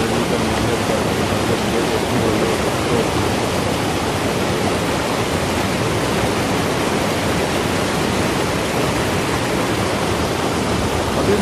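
River swollen after rain, a loud, steady, broadband rush of flowing water that fills the whole clip without a break, close and constant.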